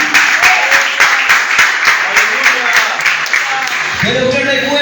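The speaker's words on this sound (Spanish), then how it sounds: "la iglesia le da un fuerte aplauso" A church congregation bursts into loud, sustained applause, rapid dense clapping filling the room for several seconds before a voice cuts in near the end.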